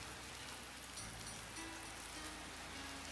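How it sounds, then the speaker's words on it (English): Rain falls as a faint, continuous hiss of drops pattering on surfaces on a rainy day in Highland Park, Los Angeles, with no other sounds. "It's a rainy day in LA, aka Highland Park."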